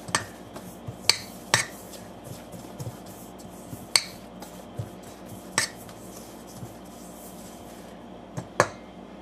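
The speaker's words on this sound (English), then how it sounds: "we start by whisking all of these dry ingredients together" Dry cornbread ingredients are whisked in a bowl, giving a soft continuous scraping rustle punctuated by sharp metallic clicks as the whisk strikes the bowl's rim at irregular intervals, close by and with no talking.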